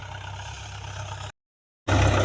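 A tractor engine drones steadily while ploughing a field, a close, loud low rumble that cuts out briefly to silence before resuming even louder.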